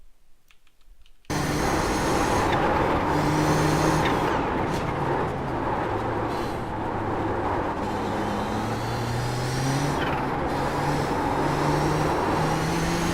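Race car lapping Barber Motorsports Park in iRacing, engine loud and constant after a short quiet start, pitch climbing and dropping with repeated upshifts and downshifts throughout.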